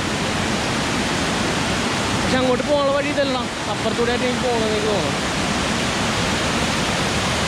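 Roaring waterfall in a forest, a steady, loud broadband rush of falling water filling the whole scene, with someone talking over it for a few seconds.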